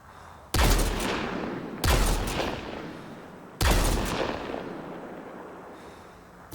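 Three heavy sniper rifle shots in the video game Mass Effect Andromeda, each a loud, sharp crack with a long, decaying rumble, spaced about one and a half seconds apart with no talk.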